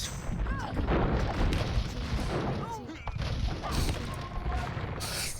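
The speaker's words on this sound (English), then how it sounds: "now the cannon galleons, they are killing all the traps" Repeated booming cannon blasts from cannon galleons in an Age of Empires II battle, with crashing impacts layered over a busy, noisy background.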